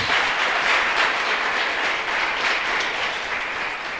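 A church congregation at a healing seminar applauds in a continuous, dense wash of clapping that stays loud and steady before easing slightly.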